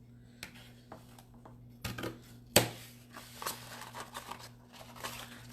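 Scissors snip through flake rail ribbon for a snowflake wreath, a few sharp, close cuts and crinkles in a quiet room.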